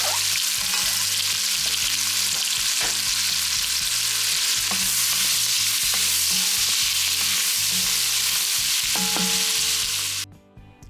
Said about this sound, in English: I'm just kind of cooking them down, and I have them cooking in the grease from a couple of pieces of bacon